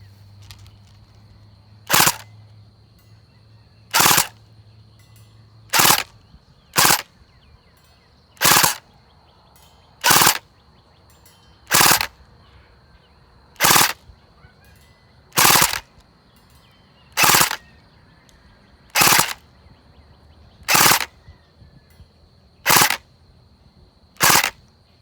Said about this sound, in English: Let's do some full auto bursts.